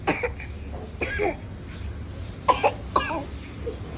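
Several short, sharp coughs come in a scattered series, some doubled, close to the listener against a low background hum.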